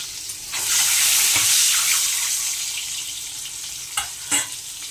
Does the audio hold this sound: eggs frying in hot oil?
yes